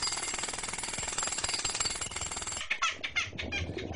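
A pneumatic drill hammers in rapid, continuous bursts, loud and close, then breaks into a few choppier pulses near the end.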